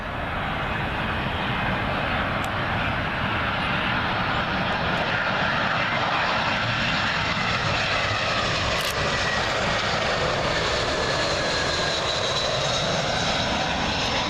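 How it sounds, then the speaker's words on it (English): A British Airways A319 inbound from Brussels passes on approach to Heathrow's runway 27L, a steady, loud jet roar that holds strong for about fourteen seconds. "that last one was a British Airways A319 from Brussels"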